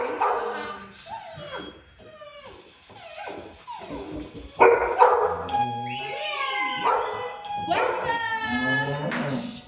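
Several dogs bark and yip in excited, overlapping bursts, some high and whiny, with a brief human voice in the mix.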